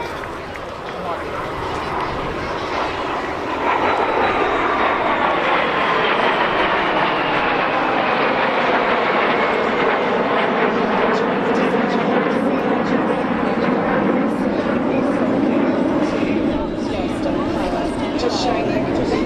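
Vampire FB.52 and Strikemaster jet aircraft flying as a pair at the Clacton Airshow, a loud sustained jet roar that sweeps past in a long Doppler pass and stays loud throughout.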